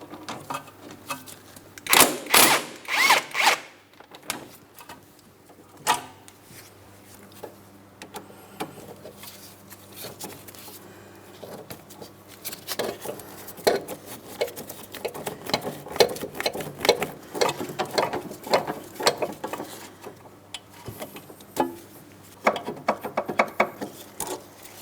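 A ratchet with a 15mm socket loosens the sway bar link nut on a 2003-2007 Cadillac CTS, giving bursts of quick clicking strokes with metallic clatter between, close and fairly loud, with no talking.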